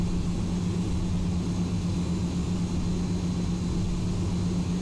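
In the X-Plane simulator, a Delta airliner taxis onto the runway with a steady, loud low engine drone and a faint high whine that holds unchanged throughout, with no voices.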